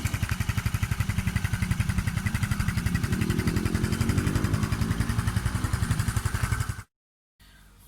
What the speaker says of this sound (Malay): Dan untuk enjin 4 stroke adalah seperti begini.